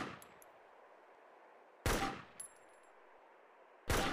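Assault rifle in DayZ firing three single loud, sharp shots about two seconds apart, each with a short fading tail over quiet background.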